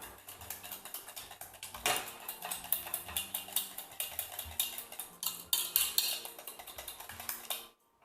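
Sugar stirred into lemon cake batter in a bowl: a quick, close run of rhythmic clinking and tapping strokes from a utensil against the bowl, steady for several seconds before stopping; no voices.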